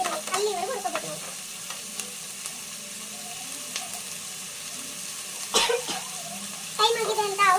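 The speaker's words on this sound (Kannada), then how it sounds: "ಈ ಟೈಮಲ್ಲಿ ಈರುಳ್ಳಿ ಹಾಕಿದ್ದೀವಲ್ಲ, ಇದು ಫುಲ್ ಗೋಲ್ಡ್ ಕಲರ್ ಬರಬೇಕು." Onions fry in oil in a pan for avalakki, giving a steady close sizzle with occasional stirring scrapes, while someone talks over the cooking.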